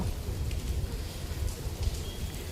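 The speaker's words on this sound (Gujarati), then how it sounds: "કપડાં સૂકવી અને પાંચ મિનિટ બી નથી થઈ અને વરસાદ આવ્યો હતો" Steady rain falling outdoors in Nadiad during the monsoon season, a continuous dense hiss of drops with a low rumbling patter and no voices.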